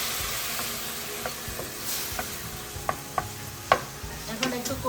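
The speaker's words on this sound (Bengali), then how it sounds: "এখন একটু কষিয়ে নিচ্ছে," Spices with turmeric powder and salt sautéing in a hot pan before fish is added, a steady close sizzle and hiss broken by scattered scrapes and taps of stirring.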